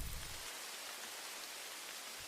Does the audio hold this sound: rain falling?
yes